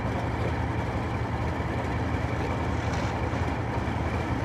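A steady, low engine drone from a military vehicle in the video game Arma, on the Takistan map, runs without pause, a continuous rumbling motor hum with no talking over it.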